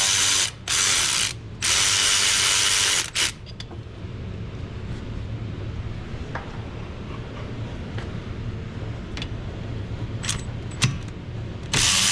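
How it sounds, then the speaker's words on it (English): A ratchet working the 14 mm rear brake caliper bracket bolts on a 2020 Mazda CX5: loud, close bursts of rapid clicking fill the first three seconds, then fade to faint, scattered clicks with no talking. "we're going to undo the two bolts underneath to pull the bracket off"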